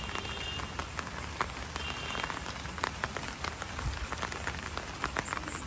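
Steady monsoon rain falls on a house, with a constant hiss and scattered louder drops striking nearby surfaces. No talking is heard.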